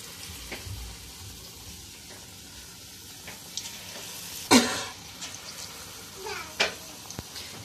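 Pakoras fry in hot oil with a steady low sizzle and a few sharper hisses as batter drops in, heard close, while a voice talks quietly.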